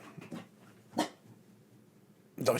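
A small dog gives a few short, sharp yips and barks, spaced apart and fairly faint, with quiet gaps between them.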